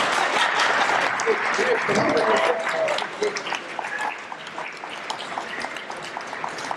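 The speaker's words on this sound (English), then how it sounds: "Clapping." An audience claps at a school fall drama guild production of Scared Silly, a loud burst of many hands that thins after a few seconds into scattered claps, with voices over the start.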